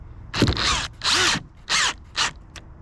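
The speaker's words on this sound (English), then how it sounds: "We are using a drill to try to speed the process up" A power drill loosens a battery terminal on a 2014-19 Chevrolet Silverado/GMC Sierra, whirring in four short bursts, each a few tenths of a second long, close and loud with brief pauses between.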